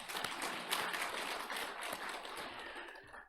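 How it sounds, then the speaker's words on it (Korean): A church congregation claps in warm applause for the choir after a Sunday service, a steady dense patter of many hands heard at moderate distance, tapering off at the end. "우리 수고한 찬양대를 위해서도 격려의 박수"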